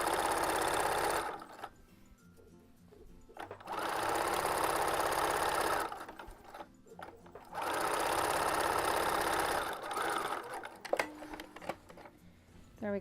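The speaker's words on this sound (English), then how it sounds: "let's go ahead and sew this around like a tube" A sewing machine stitches a pant leg into a tube while making color-block pants, with three long whirring bursts of rapid stitching separated by quieter pauses and handling noises, close and loud.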